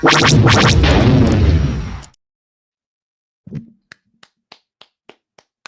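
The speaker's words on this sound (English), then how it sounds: "We're clapping" A loud, dense burst of clapping from people on a live Monday stream fills the first two seconds and cuts off abruptly. After a pause, a handful of single, sharp claps or taps follow at a loose, uneven pace.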